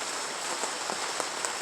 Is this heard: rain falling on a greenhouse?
yes